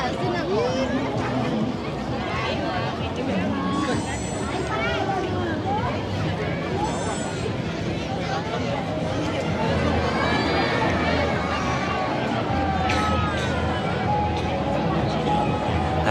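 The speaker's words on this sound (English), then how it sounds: "And yeah, big crowd of people." A dense holiday crowd in China on a National Day evening, a steady busy hubbub of many voices with scattered shouts and footsteps, close and continuous throughout.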